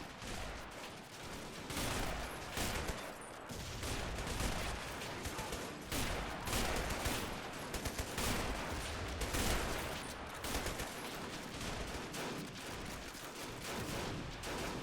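Dense battle gunfire from the World War II strategy game Men of War: Assault Squad, Australian defenders against a Japanese invasion of Tulagi island: continuous overlapping rifle and machine-gun bursts with explosions, loud and unbroken, someone talking over it.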